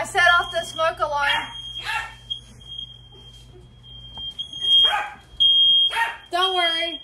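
A shrill smoke alarm, set off while baking pizzas, sounds continuously in a home kitchen while a dog barks in short bursts and people talk over it.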